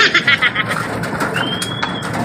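Pigeons feeding at a loft, with soft throaty cooing bursts early on, then a thin whistle-like call and light scuffling nearby.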